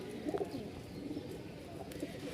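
Male pigeons, one biscuit-colored and one coffee-colored, give soft, low coos that come and go faintly over quiet background noise, somewhat distant.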